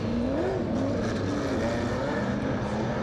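Super saloon race cars thunder around Central Motor Speedway, a dense, steady engine roar with shifting pitch as the pack races together, loud and continuous with no talk over it.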